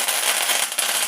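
Mustard seeds and urad dal crackle and spatter in hot oil, a dense, bright, continuous popping close to the pan.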